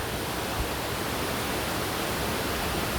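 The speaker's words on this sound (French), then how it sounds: "je vous avais promis la cascade, je suis arrivée." Mountain waterfall near Luchon on a hot sunny day, a steady broadband rush of falling water heard throughout, fairly soft and even, with no voices.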